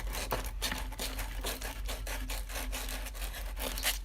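Sandpaper rubbed by hand over a plastic weed eater fuel tank, a close run of quick rasping strokes in an even rhythm, with no talking.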